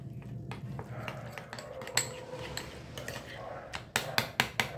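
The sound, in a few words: mixing coriander-cumin powder and red chilli powder in a bowl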